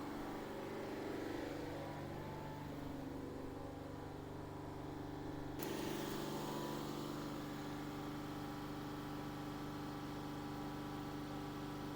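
A Mercedes GLE with a blocked DPF holds a steady, fairly quiet engine drone near 3000 rpm, with a faint tonal shift midway and no talking.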